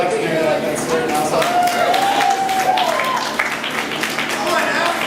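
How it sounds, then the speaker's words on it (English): A stand-up comedy audience at JD's in Sheffield, Alabama, gives a round of applause. The sustained crowd clapping runs throughout, with a voice speaking over it. "Let's give a round of applause for everybody that came beforehand."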